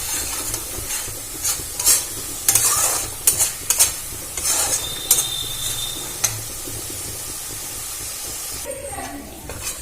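A spice paste of ground coriander, cumin, red chilli and turmeric mixed with water fries in hot oil for a Bengali rui fish kalia, with steady sizzling and loud intermittent scraping stirs.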